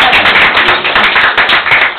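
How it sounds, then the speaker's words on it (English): A church congregation gives a clap offering, a loud, dense crowd applause with rhythmic surges of many hands clapping together, slightly muffled in tone. "Can we give a clap offering to the Lord?"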